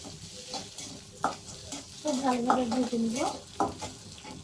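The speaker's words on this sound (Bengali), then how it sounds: "চিকেন আর ডিমটা একসাথে খুব ভালোভাবে আমরা ভেজে নেব।" Chicken and egg stir-fry together in a pan for chowmein. A spatula scrapes and knocks in uneven strokes over a faint sizzle, with one drawn-out, squeaky scrape in the middle.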